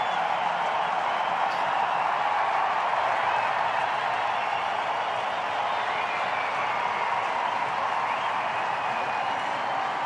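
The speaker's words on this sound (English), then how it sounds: "Huge applause from the Indian fans all around the ground here at the Adelaide Oval" Indian cricket fans applauding all around Adelaide Oval after a one-day international century, a sustained, even roar of clapping and crowd noise from a large stadium, steady and loud throughout.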